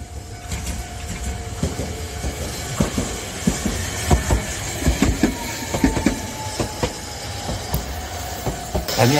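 Kagoshima city tram rolling past a railway crossing near the JR line, its wheels clacking rhythmically over the rails, with a steady rumble and a faint high tone, loud and close.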